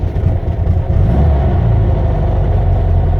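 Volkswagen Beetle engine revving with a loud, close, continuous low rumble that climbs and holds steady, with some mechanical clatter and no voices.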